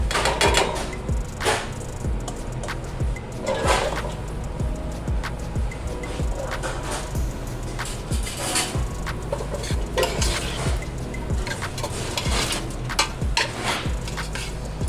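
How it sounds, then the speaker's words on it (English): Shallot, garlic and Fresno chilies sweat in a pan beside mussels cooking in white wine, with a soft sizzle under repeated clinks and scrapes of a utensil stirring against the pan, close and irregular. "I am going to be sweating some shallot, garlic, and Fresno chilies"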